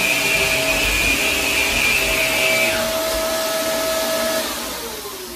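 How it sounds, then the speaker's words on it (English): Shark Navigator upright vacuum cleaner (Lift Away Deluxe NV360) running steadily on a hardwood floor setting, a loud continuous motor whine with a high tonal hum that dips slightly in pitch and level near the end. "Here's the Shark Navigator. Picks up everything."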